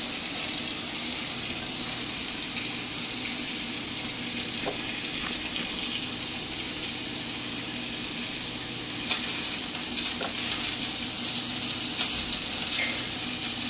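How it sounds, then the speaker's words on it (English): Potatoes frying in a pan in a home kitchen give a continuous, even sizzle, with faint clinks and a few scattered crackles rising over the steady hiss. "as you can hear those potatoes starting to sizzle"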